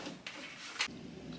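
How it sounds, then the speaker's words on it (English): A wooden drawer is pulled out of a kitchen cabinet before its front is replaced, giving two brief scraping slides, the second sharper and louder, close by with no talk. "First thing you want to do is remove the entire drawer."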